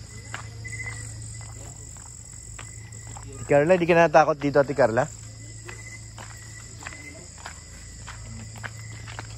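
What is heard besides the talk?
crickets chirping at night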